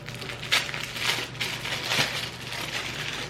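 A small bag holding a set of gold metal straws crinkles and rustles up close in several soft, irregular bursts, with no talking.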